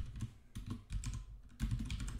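Computer keyboard typing heard alone in bursts of clicky keystrokes, close and moderately quiet, with brief pauses between runs as a project name is entered.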